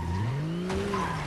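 Car in the Fortnite video game driven recklessly, tires squealing in a rising skid with engine whine over a steady roar, loud and close for about a second.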